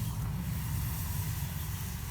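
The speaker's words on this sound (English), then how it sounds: "There, sizzling, it's nice and hot." Bone broth sizzles in a hot cast iron pot, a steady, close hiss with no break across the short stretch.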